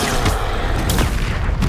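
Glacius spell cast in Hogwarts Legacy, a dense burst of loud magical impacts and blasts, with sharp cracks rising out of a continuous rumbling barrage.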